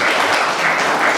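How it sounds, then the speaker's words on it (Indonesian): Brief burst of classroom applause for a student group at a vocational high school, dense and steady for just over a second. "kasih tepuk tangan dulu untuk kelompok yang kedua"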